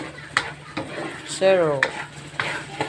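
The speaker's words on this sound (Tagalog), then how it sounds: "Dili pinatuundangan pag-ukay" Spoon stirring a thick brown sugar and sticky rice mixture in a pot, a few scraping strokes at close range, with a voice speaking briefly over it.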